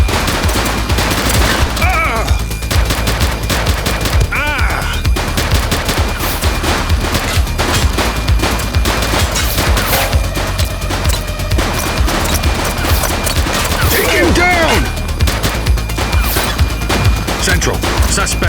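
A police shootout in the video game The Precinct: sustained, loud gunfire with rapid overlapping shots and crashes running throughout, mixed with brief shouted voices and game sounds.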